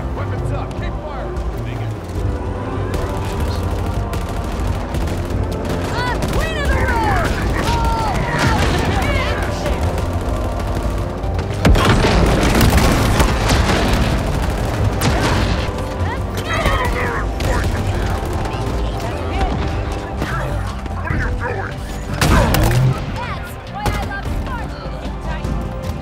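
Gunfire and explosions in the Halo Infinite campaign fill a continuous loud battle mix, with rattling fire and booms under almost constant shouted soldier voices and game dialogue.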